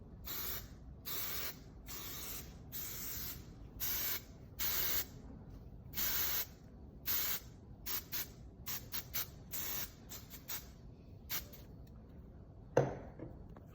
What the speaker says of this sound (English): just go around and spray all the curls and the braids to keep it from getting frizzy